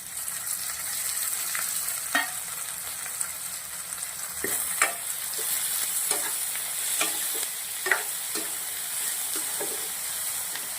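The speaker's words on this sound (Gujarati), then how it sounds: "બે મિનિટ સુધી શેકી લેશું તેલના અંદર અડવીને" Taro pieces and chopped tomatoes frying with onion in hot oil give a steady sizzle, with a spoon repeatedly stirring and scraping the pan in irregular taps throughout.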